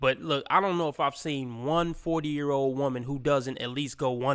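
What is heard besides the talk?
No everyday noises stand out.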